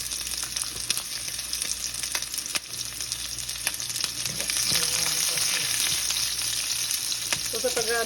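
Chopped white onion sizzles steadily in a hot pan for chicken adobo, a constant close hiss with scattered pops and crackles, occasional stirring scrapes, and no talking.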